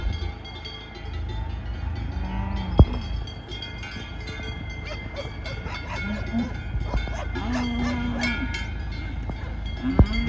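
Grazing cattle from a roaming herd of about 130, including cows and a bull, low in short bursts. There are a few separate moos over a steady low rumble, with occasional sharper knocks.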